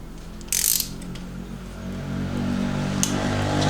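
Torque wrench clicking off as an MGB cylinder head bolt is tightened to 23 foot-pounds, a sharp metallic click near the start followed by a second fainter click later, over low workshop hum.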